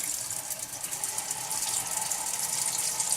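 A Homelody LED cascade faucet runs lukewarm water, giving a steady close splashing rush with a bright hissy sheen and a faint tonal hum underneath, continuous throughout without talk.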